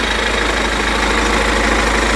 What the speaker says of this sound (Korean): 엔진룸 열어서 엔진 소리 들려드릴게요